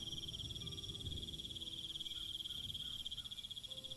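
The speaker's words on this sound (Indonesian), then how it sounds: "Suara jangkrik mulai keras terdengar di mana-mana." Crickets chirp in a steady, continuous high trill at dusk in a quiet lakeside village, with frogs calling faintly underneath and no voices.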